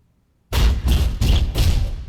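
A heavy impact designed for an Evangelion suit booms after a short silence, followed by several rolling, reverberant thuds that ring out in a large space.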